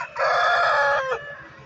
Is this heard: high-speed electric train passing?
no